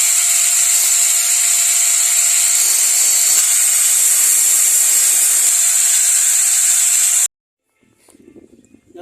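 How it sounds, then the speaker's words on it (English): Continuous high-pitched power tool cutting a hole in the sheet metal side of a homemade wood shavings cooking burner, loud and close for about seven seconds, then stopping abruptly into faint handling noise. "So now I'm trying to create that hole here on the side, so I will have to cut this one"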